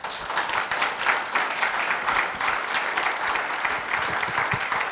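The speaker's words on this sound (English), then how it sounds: "Please give both gentlemen a round of applause." Steady applause from a sizable crowd at a Nixon Library author event, dense and continuous throughout, with no pauses.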